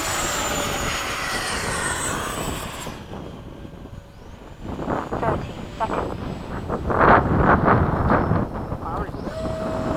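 FMS 80mm Hawk model jet flying a touch and go at an airfield, its turbine whine fading then swelling again as it passes close amid wind buffeting, with people talking nearby.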